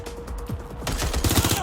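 Bursts of rapid gunfire erupt in Watch Dogs Legion on PS5, loud and close, rattling in a dense volley through the second half after a quieter lead-in.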